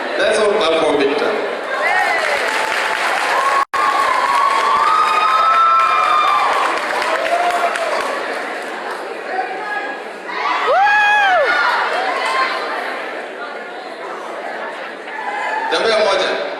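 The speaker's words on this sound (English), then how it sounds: "Let's all clap for Victor." Pageant audience at a Miss Kalenjin USA event clapping and cheering for the winner, with a dense crowd roar, whoops and shouts, steady through most of the stretch and swelling again near the end.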